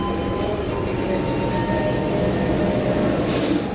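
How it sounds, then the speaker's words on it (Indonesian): The Sembrani passenger train at Surabaya Pasar Turi station, bound for Gambir, sets off with a steady, loud rumble of rail cars and wheels that runs without a break. A brighter hiss of wheel noise swells near the end. "ini di sebelah kanan ada kereta api Sembrani yang akan segera berangkat dari stasiun Surabaya Pasar Turi"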